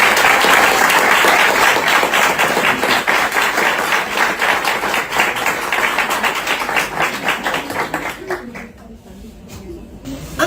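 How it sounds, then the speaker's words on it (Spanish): An audience at a literary book launch bursts into dense, loud applause that holds steady for several seconds, then thins out and fades to a few scattered claps. "Un fuerte aplauso para las dos."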